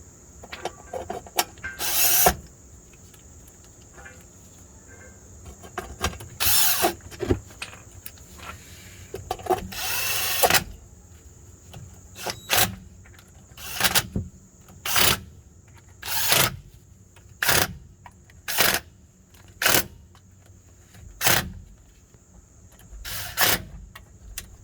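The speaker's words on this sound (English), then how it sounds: "with all the bolts loosely installed with the impact driver" Impact driver loosely installing bolts on a vehicle during post-flood maintenance: a series of short, sharp rattling bursts, a few uneven ones early then about eight evenly spaced, loud and close over a quiet background.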